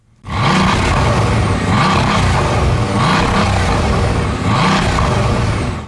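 Engine and central exhaust of a Bugatti Veyron, a loud, steady, close-up roar with a smooth turbine-like drone and gentle rises and falls in pitch, running unbroken after a sudden start.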